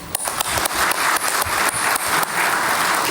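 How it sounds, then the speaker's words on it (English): A graduation-day crowd gives a big round of applause, dense and loud continuous clapping filling the whole stretch with no voices on top. "it's very befitting for us to give that big round of applause"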